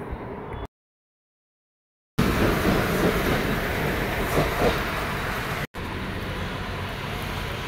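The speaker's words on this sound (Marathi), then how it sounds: "भाऊच्या धक्क्याला जाण्यासाठी आम्ही CST ट्रेन घेतली आणि डॉकयार्ड रोडला उतरलोय।" A Mumbai local suburban train rolls out of CST with a loud, steady rumble and rattle of the carriage on the tracks, broken by a couple of abrupt silent cuts.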